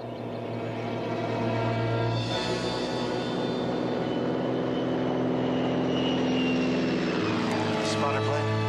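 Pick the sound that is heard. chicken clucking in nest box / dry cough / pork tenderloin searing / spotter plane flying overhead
spotter plane flying overhead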